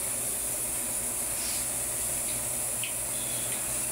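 A pot of water for cooking rice boils hard, giving a steady, even hiss and rush that stays at the same level throughout, with no voices.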